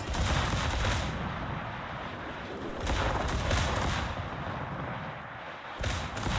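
Heavy naval guns fire in World of Warships, a dense, loud barrage of booming blasts rolling continuously, with stronger volleys swelling around the middle and again near the end, no voices.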